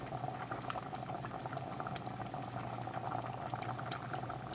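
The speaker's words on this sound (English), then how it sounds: "This is a nice simmer on tomato sauce. So you can see we got some bubbles going," Tomato sauce simmers in a pot, a dense steady crackle of popping bubbles with a low bubbling undertone, close and continuous with no voices.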